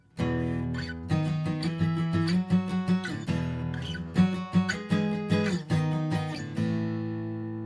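A strummed acoustic guitar plays a bright, rhythmic chorus riff with crisp attacks and ringing strings, played alone and closing on a sustained chord.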